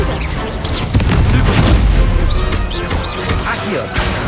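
Confringo blasting spells erupt in Hogwarts Legacy as a dense run of loud booming explosions and crashing impacts, close and continuous over a few seconds, with game effects layered throughout.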